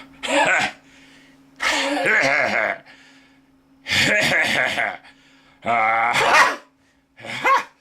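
A dog comes indoors on a cold day, giving a few short barks, sneezes and gasping huffs in separate bursts, close and fairly loud over a steady low hum, with people talking nearby.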